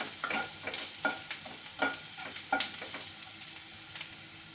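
Chopped onion frying in a pan at home, a steady sizzle broken by repeated scraping stirs at an even, moderate loudness with no talking.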